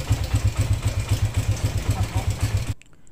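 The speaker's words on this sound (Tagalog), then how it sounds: "So dahil maingay yung makina mga boss" A loud engine with a worn timing chain idles close by with a rapid, rhythmic clattering knock, running steadily for about three seconds before cutting off abruptly.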